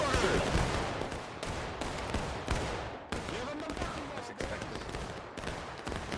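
Scattered musket volleys crackle through a Civil War battle game, Union 42nd Pennsylvania and 30th Ohio infantry firing on a corner, repeated sharp bursts over a dense battlefield din with voices mixed in.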